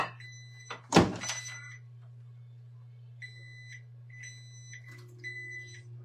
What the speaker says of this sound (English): It means my timer's going off.